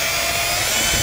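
A power drill driving a tap to cut threads into a piece of aluminum, a steady continuous whir with a bright high-pitched tone, close and loud throughout the short burst with no talking.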